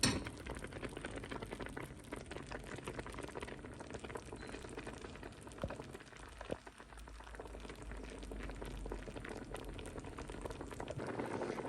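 Quince jam boiling in a pot: a steady, dense bubbling and sputtering that continues throughout, close and moderately quiet, with a faint clink partway through.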